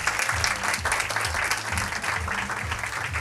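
A studio audience at a quiz show gives dense, sustained applause that stays steady and fairly close throughout, with no talking over it.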